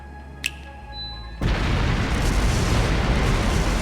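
Explosive artifacts scattered throughout a palace detonate in a video game scene: after a quiet stretch with one small pop, a sudden loud blast breaks into a sustained, roaring rumble that fills the rest of the moment.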